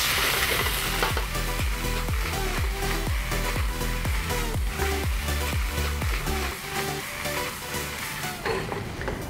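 Spicy Thai chicken fried rice with basil is stir-fried in a hot wok, with loud close rhythmic scraping and tossing strokes over a continuous sizzle, then the stirring eases off.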